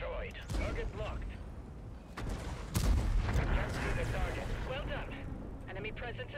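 A tank's main gun fires in World of Tanks, one heavy booming shot with a deep rumbling tail, amid engine noise and spoken voice lines.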